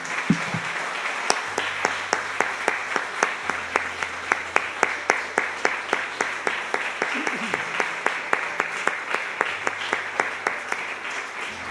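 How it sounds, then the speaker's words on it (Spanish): Church congregation applauding during a sermon, a steady mass of clapping with loud individual claps cutting through at a fairly regular rhythm, sustained for several seconds with a low hum beneath. "Le damos un aplauso al Señor por eso."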